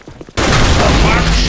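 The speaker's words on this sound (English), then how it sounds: "Grenade! Fire in the hole!" A grenade explodes in the BlackShot online shooter during a team flag match: a short game voice line, then a sudden loud blast that roars on as a sustained wash of noise.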